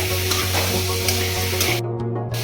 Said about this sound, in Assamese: এতিয়া চিকেনখিনি দি মই ভালদৰে 5 মিনিটমান ভাজিম।